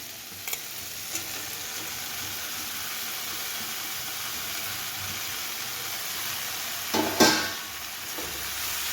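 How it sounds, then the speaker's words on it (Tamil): Ridge gourd sautéing with onion and tomato in a pan, heard as a steady close sizzle and hiss with a few faint scrapes, then a louder stirring burst near the end. "இப்போ நம்ம பீக்கெங்காய் சேர்த்துக்கிடுவோம்"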